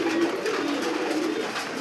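Kakji pigeons coo softly and steadily near newly hatched chicks in a pigeon loft, a low murmuring call that continues throughout without speech.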